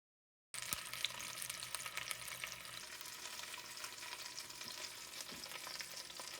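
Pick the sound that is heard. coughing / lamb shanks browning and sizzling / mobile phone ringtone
lamb shanks browning and sizzling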